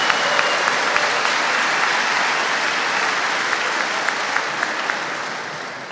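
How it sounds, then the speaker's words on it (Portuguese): A church congregation at a sermon on marriage bursts into sustained applause, a thick, even roar of many clapping hands lasting about six seconds with a few sharper claps standing out. "E vamos aplaudir o útero das mulheres."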